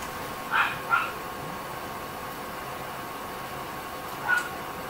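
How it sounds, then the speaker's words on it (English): A dog barks indoors somewhere off to the side, two short yips close together and then a third a few seconds later, faint against a low room hum. "My dog keeps on barking."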